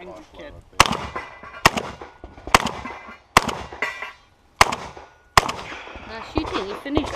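Sharp gunshots ring out during a 3-gun competition stage, about seven loud cracks spaced roughly a second apart, each with a brief echo, while people talk between shots.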